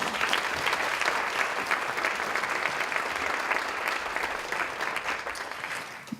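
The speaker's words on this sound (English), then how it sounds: "I just want us to just give another warm applause and appreciation for Dr." Conference audience applauding Dr. Lee: steady, dense clapping from a sizeable crowd, sustained throughout and gradually thinning toward the end.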